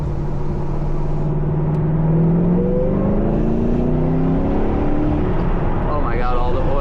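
A 2006 Ford GT pulls at half throttle in second gear, its engine note climbing steadily from a low drone to a higher pitch. The note is loud and continuous inside the cabin and carries on without pause.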